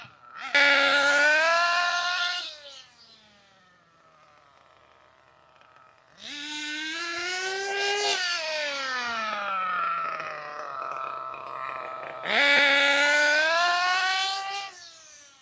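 A Losi 8ight RTR nitro RC buggy engine during break-in, running as three loud, high-pitched revving bursts that rise and fall, separated by a quieter idling stretch.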